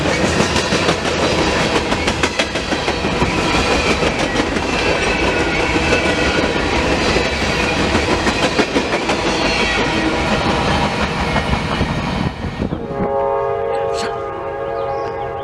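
A long CSX freight train made up mostly of gondolas, including scrap metal gondolas, rolls past close by with loud continuous rumbling and clickety-clack of wheels over rail joints, then the last cars clear and the noise drops off sharply near the end.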